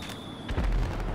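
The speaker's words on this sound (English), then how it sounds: "Shoot some fireworks at you." A firework bursts in Grand Theft Auto V, one deep booming explosion that arrives midway and rumbles on, following a steady high electronic tone.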